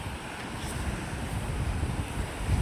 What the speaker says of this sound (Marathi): आता मोठी तानं येतील जे बंधाऱ्याजवळ पाणी आपटतं